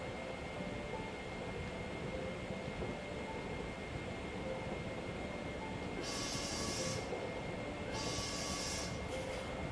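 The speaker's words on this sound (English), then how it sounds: "There's a shrill whistling sound, and then the shudders of the train go stronger as we begin to slow down" A steady low rumble of a train slowing down in the visual novel Heart of the Woods, with two bursts of high hissing near the end.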